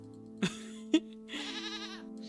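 Two short goat bleats a half second apart, then a longer wavering bleat, clear and fairly close over a quiet background, from the video game Rusty Lake Paradise.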